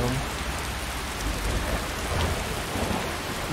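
Steady, dense rainfall pours down in the video game Skyrim, with low thunder rumbling underneath throughout and no voices.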